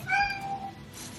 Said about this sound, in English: My cat's trying to get out.